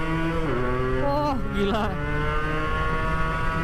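A Yamaha RX King two-stroke motorcycle revs close by in a few quick rising and falling bursts, and a short exclamation is heard over it.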